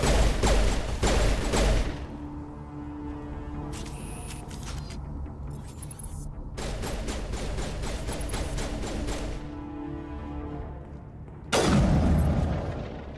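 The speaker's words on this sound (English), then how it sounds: "I love a satisfying sniper rifle. And a lot of that is to do with sound design." Sniper rifle shots in the Mass Effect video game, several loud booming blasts with long rumbling tails that recur across the stretch, with quieter gaps of ambient noise between them.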